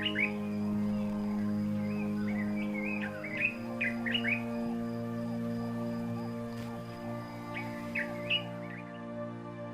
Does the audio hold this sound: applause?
no